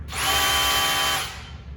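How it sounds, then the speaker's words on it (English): A power drill runs in hammer mode, a loud, close whine with a gritty rattle that spins up, holds steady for about a second, then winds down. "the drill's got a little bit different sound"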